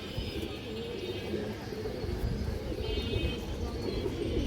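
Cream-eyed high flyer pigeons coo softly in a loft, a steady low murmuring bed of calls running throughout.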